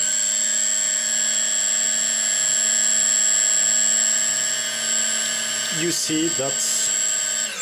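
Quadcopter motors on a 3D Robotics Arducopter with APM2.5 jump to high speed at minimum throttle, a steady high-pitched multi-tone whine held close up, with a brief voice heard near the end.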